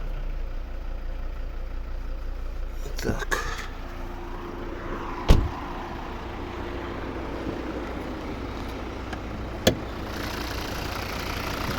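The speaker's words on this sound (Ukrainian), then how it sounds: "Ось двигун. П'ятициліндровий Вольвовський." A Volvo V60 2.0 D4 five-cylinder diesel, a 2013 automatic, idles steadily with a low, even rumble, broken by a few brief clanks and knocks. The sound stays close and continuous.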